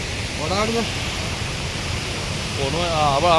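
From the foot of the Athirappilly waterfall, a constant broad rush of falling water roars nearby. Brief human voices rise over it twice.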